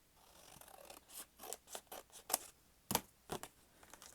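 Scissors snip through paper for a junk journal, a quick run of crisp, close cuts in an uneven rhythm with two sharper louder snips near the end.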